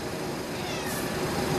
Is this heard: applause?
no